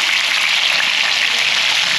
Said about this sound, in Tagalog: Tapos yung ating piniprito dito na tilapia